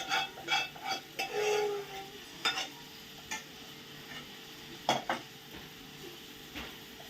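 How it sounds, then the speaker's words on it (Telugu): Fried chicken tipped into a simmering curry in a home kitchen and stirred in, with a few sharp spoon-on-pan scrapes and clacks over a soft sizzle, close by and without speech. "దాంట్లో చికెన్, ఈ చికెన్ వేసేస్తున్నాను, ఫ్రైడ్ చికెన్"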